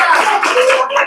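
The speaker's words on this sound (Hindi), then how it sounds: "अपने आप के लिए एक बार जोरदार ताली बजाएं।" A school audience at a maths quiz competition breaks into loud, close applause, a dense burst of many hands clapping together for about a second.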